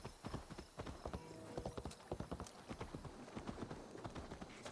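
Horse hooves clip-clop at a brisk riding pace in Assassin's Creed Valhalla, a steady close rhythm of hoofbeats with faint surrounding game ambience throughout.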